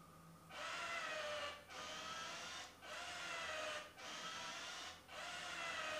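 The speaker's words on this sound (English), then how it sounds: "That's actually the sweeper scraping off the mopping pad and wetting it, getting it ready for the mopping job." A Veniibot Venii N1 robot vacuum scrapes and wets its mopping pad: a loud, steady mechanical whirring and scraping in four long bursts with short pauses between them, heard close up with no voices.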